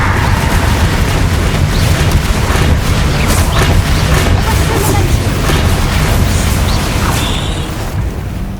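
A Confringo fire spell blasts during a Solomon Sallow boss fight in Hogwarts Legacy, a loud sustained booming explosion with rumbling low end and crackling bursts that fades slightly toward the end.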